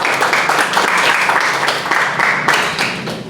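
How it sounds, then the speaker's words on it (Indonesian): Classroom applause, a group of students clapping close and loud in quick, slightly uneven bursts, busy and energetic, briefly ebbing and surging before tapering at the end, with no speech. "Tepuk tangan dulu"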